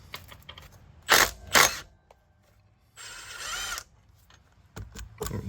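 Motor mount bolts are loosened on an Audi B5 S4, with short bursts of a ratcheting tool, a longer mechanical whir and scattered metallic clicks close by.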